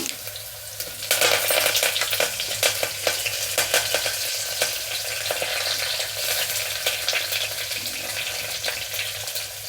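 Ginger pieces and curry leaves crackle and sizzle in hot oil for a millet khichdi, a loud steady frying hiss with small pops and a few clinks of stirring.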